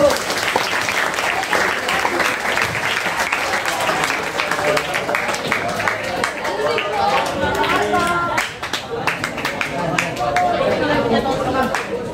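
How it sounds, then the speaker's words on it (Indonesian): An audience at a lesson on preparing a body for burial applauds the mediator, giving loud, sustained clapping mixed with crowd chatter that dips briefly and then swells again. "Tepuk tangan untuk mediatornya."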